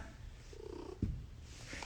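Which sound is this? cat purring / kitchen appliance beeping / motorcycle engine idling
cat purring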